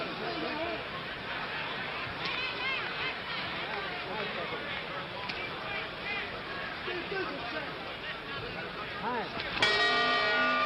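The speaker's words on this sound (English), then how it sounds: "Two rounds gone, and that time they hear the bell." A boxing round bell clangs near the end of the second round of the Cassius Clay versus Sonny Liston heavyweight fight, cutting sharply through steady crowd chatter and arena hubbub.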